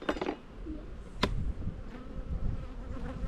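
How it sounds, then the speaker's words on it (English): Dense, continuous buzzing of many honey bees close by in an opened hive in spring, with a sharp knock near the middle and some low rumbling handling noise. "it's full of bees."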